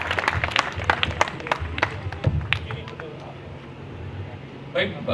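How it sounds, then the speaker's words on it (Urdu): A crowd at a community gathering in Allahwala Town claps to welcome a speaker, scattered sharp claps over murmuring voices that thin out toward the end. "تو تالیوں میں استقبال کریں گے تو اس کا جوش بلند ہوگا"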